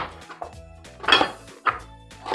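A knife slices thin pieces of ginger on a cutting board, giving several sharp, irregular knocks and clicks with brief scraping between them, close and fairly loud, with no talk.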